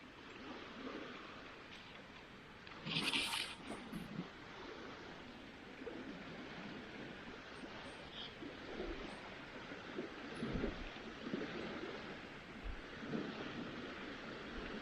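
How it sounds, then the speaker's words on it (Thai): Waves lapping on a lake shore where mushrooms are being gathered, a steady wash of water mixed with wind rumble across the microphone, continuous and fairly loud, with no talking. "ฟังเสียงคลื่นทะเลกันจ้ะ"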